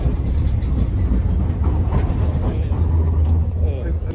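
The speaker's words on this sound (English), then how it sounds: "Waiting for the train to Frankfurt." A steady low rumble of a train in Belgium running, with faint rhythmic clatter and some murmured voices mixed in.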